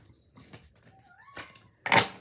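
A house cat gives a short rising-and-falling meow near the middle, fairly soft and close, in a quiet room with faint shuffling, followed by a louder thump or knock at the end.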